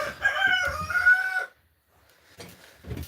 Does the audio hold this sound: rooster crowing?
yes